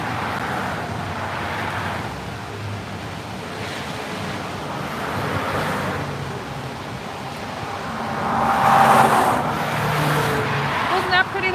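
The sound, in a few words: cars speeding by on a highway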